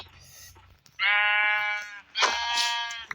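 Sheep in a video game bleat twice in close succession, loud and near, each a drawn-out wavering cry of about a second, with a short pause between them.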